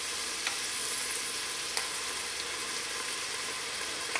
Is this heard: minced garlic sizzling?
yes